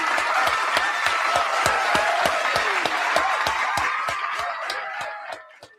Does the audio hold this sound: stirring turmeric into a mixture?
no